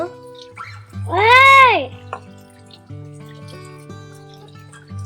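Star fruit juice trickles and pours into a glass with a liquid, drip-like sound, close by and under a brief high voice and background chatter.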